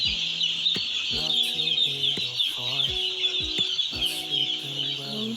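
Many broiler chickens cluck and chatter in short overlapping calls inside a barn, backed by a constant hiss of fans or ventilation filling the indoor space.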